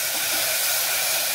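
Water poured onto hot masala of red chilli and coriander for sambar hisses and steams in a steady, loud, continuous sizzle with no pauses and no voices.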